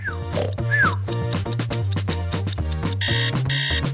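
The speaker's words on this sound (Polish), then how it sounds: "A, to tylko budzik." An electronic alarm rings in a rapid repeating pattern over a bouncy melodic tune, with a higher buzzing burst near the end.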